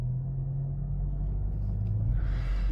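A modified 2022 MK8 Volkswagen Golf GTI rumbles while driving, its engine giving a steady, deep drone from the cabin with no talking.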